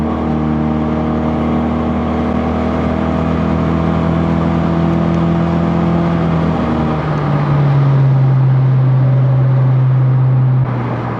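A 2022 11th-generation Honda Civic with an RV6 downpipe and Function Werk front pipe holds a steady, loud engine drone, then its pitch drops as it eases off into deceleration, close and continuous.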